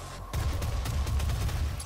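Gauss cannon firing in siege mode in the video game DOOM: two heavy, booming shots with dense low-end rumble and a sustained roar, heard loud and close with no talking over them.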